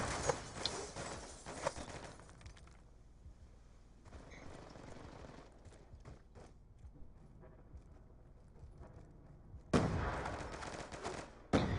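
Gunfire in a Counter-Strike competitive match, with clustered loud shots at the start and again near the end, separated by a quieter stretch of in-game ambience and scattered softer reports.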